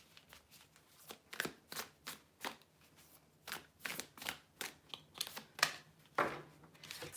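Tarot cards are shuffled in a run of crisp, riffling bursts, close and fairly quiet, coming in quick irregular groups with no talking.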